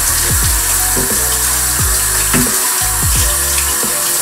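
Warm water pours steadily from a kitchen tap into the sink while a knife and cutting board are cleaned, a constant rushing hiss broken by low gurgling pulses.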